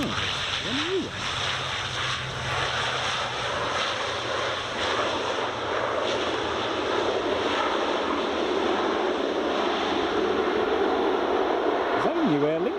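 An Aer Lingus airliner passes at Edinburgh Airport on runway 24, its jet engines a broad, steady roar that holds at close range throughout, with a faint rising whine near the start and end.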